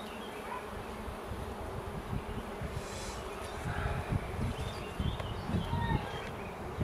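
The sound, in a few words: honeybees buzzing around an open hive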